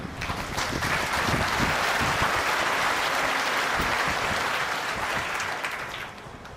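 Sustained applause from a crowd gathered for a spiritual discourse before a guru initiation ceremony, dense and steady for several seconds before tapering off at the end.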